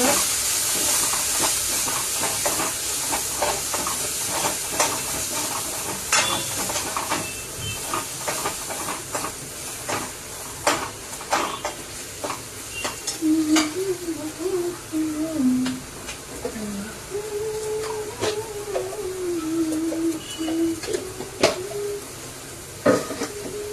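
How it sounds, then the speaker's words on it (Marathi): Green chilli and turmeric frying in oil in a pan, giving a steady close hiss and sizzle with scattered pops and crackles throughout, while a faint voice hums or speaks softly in the background. "आणि त्याला परतून घ्यायचं असं मस्त तेल सुटेपर्यंत"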